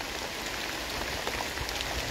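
Steady rain falls outdoors among trees, a dense, even hiss with scattered drop patter throughout, fairly close and continuous with no talking.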